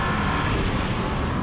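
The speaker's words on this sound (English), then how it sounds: "Oh, it shifted gear at the wrong time." A Porsche 911 Dakar at full throttle in an off-road drag race makes a steady, loud engine roar mixed with heavy wind buffeting, with no distinct gear-change break standing out.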